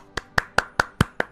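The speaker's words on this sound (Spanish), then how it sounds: "Ahí va un aplauso." Six sharp hand claps in a steady, even rhythm, close and fairly quiet, with brief silence between each clap, during a Metroid Prime game session.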